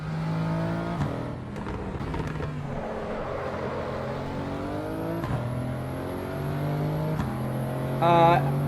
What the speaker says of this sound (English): And I'm just over revving.